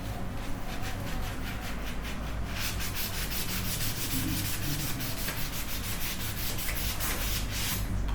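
Steady, close scrubbing rubs back and forth without pause as a part is cleaned in a luthier workshop, a dense rasping texture with no talk over it.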